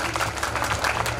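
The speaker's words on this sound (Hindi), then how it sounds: "जोरदार ताली" Loud applause from an audience welcoming a scholarship winner at a 2021 award event, a dense sustained clapping wash without pause.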